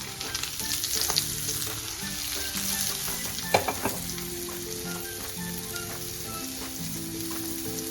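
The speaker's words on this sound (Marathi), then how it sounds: "आता आपण ही दुसऱ्या साइडने पण असं भाजून घेणार आहोत. अगदी क्रिस्पी करायचे आपल्याला याला." Semolina-coated prawns shallow-fry in a pan, giving a steady close crackling sizzle with occasional clinks and stirs, no voices.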